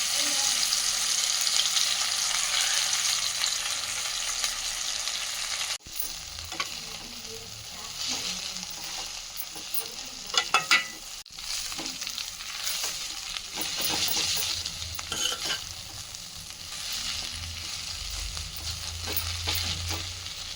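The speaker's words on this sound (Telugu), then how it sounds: "ఇప్పుడు అదే కళాయిలో గోంగూర వేయించుకున్నాం" Gongura (sorrel) leaves fry in a pan for a pickle, giving a steady sizzle with stirring and scraping throughout, broken by a couple of sharp knocks and some clatter.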